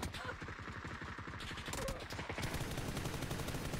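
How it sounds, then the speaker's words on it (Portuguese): Rapid bursts of automatic gunfire from the video game PUBG, dense repeated shots throughout, with a brief voice in the mix. "Dei muito tiro naquele cara."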